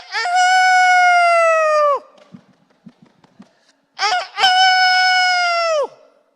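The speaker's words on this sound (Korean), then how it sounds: "닭이 몇 번 울었어요?" A rooster crows twice, each call long, loud and sustained, with a stretch of faint scattered clucks and rustling between them.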